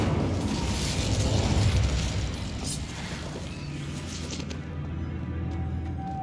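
The Incendio fire spell bursts in Hogwarts Legacy, a dense roaring whoosh of flame that holds steady for several seconds before easing slightly toward the end.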